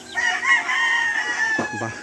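Chickens on a poultry farm cluck and call in a steady, fairly close chorus, with a couple of louder squawks near the end.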